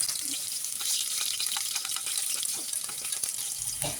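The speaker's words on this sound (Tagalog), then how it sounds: "Painitin po natin muna ang ating mantika sa aldero. Bago ilagay ang mga ingredients tulad ng bawang." Garlic frying in hot oil in a cooking pot, a steady close crackling sizzle with scattered pops and faint stirring or clinking throughout.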